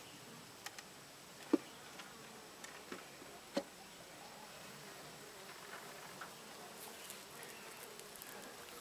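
Honeybees hum softly around an open hive as a frame is pulled during a homestead checkerboarding inspection, a faint steady drone with a few small clicks of wood and tools.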